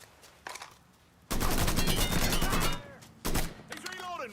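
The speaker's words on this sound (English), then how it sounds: "Taking the shot." Gunfire in Mafia 3: a sharp shot, then a second of rapid automatic bursts, a pause and another hard burst, all loud and close, with a voice speaking briefly near the end.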